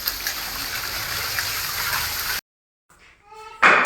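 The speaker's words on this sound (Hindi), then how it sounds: "ये दीवार धो रही हैं और छत भी साथ साथ" Water gushes steadily from a hose while a house wall and ceiling are washed down, a continuous broadband splash for over two seconds before cutting off abruptly, followed by brief quiet and faint voices.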